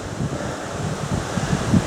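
Wind gusting across an exposed rocky ridge on a mountain hike in the Vosges, a steady close roar buffeting the microphone with rumbling surges throughout.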